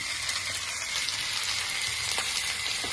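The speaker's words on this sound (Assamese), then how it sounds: "ইফালে মাংসখিনি ধুনীয়া কৰি ভাজি আছোঁ।" Meat sizzles in a pan with a dense, steady hiss of frying that stays close and continuous with no talking.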